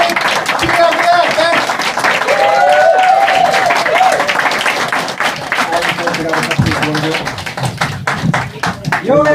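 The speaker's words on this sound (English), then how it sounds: "Give yourselves a Greek round of applause." Dense, sustained clapping from a crowd fills the clip, loud and steady, with cheers and voices mixed in throughout.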